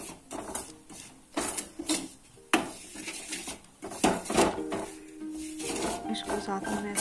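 Gram flour being roasted in an oil tempering in a pan for a spicy pakora curry: a spoon scrapes and clinks against the pan in irregular bursts, with a voice talking intermittently over it.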